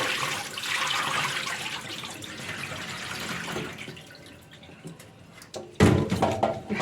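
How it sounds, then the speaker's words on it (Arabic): Tap water runs into a sink while rinse water for peeled taro is changed, a steady wash that fades before a clatter and splashing of water and vessel near the end. "هبتدي ان انا اغير الميه بتاعتي"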